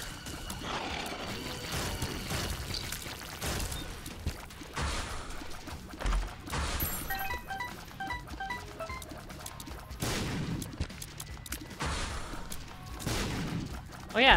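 Explosions in The Binding of Isaac, scattered dull blasts and crashes popping at irregular intervals at low level over game music and effects.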